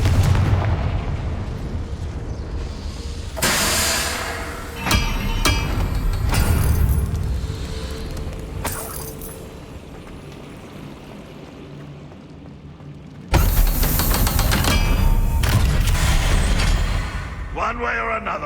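Fiery Confringo spell blasts in the Hogwarts Legacy video game: heavy booming explosions and crackling bursts that recur across the stretch, mixed with in-game voices and a quieter rumbling between the blasts.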